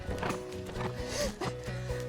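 A horse jumping show obstacles, with hooves thudding on the ground and brief equipment sounds, moderately close and under a faint background.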